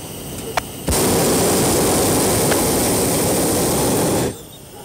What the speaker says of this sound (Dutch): Als de brander gaat, dan is het een oorverdovend lawaai.